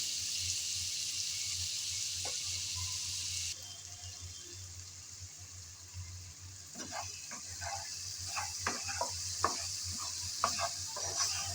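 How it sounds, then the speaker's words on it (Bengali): Sponge gourd and spices sizzle in a dry pan while a spoon stirs them, with a constant frying hiss and a run of close, irregular scraping and tapping strokes and no speech. "মশলা দিয়ে নেড়ে চেড়ে মিশিয়ে নিলাম।"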